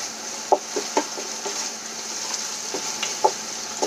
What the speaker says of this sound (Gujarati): લસણ આપણું થોડુંક સંતળાઈ જાય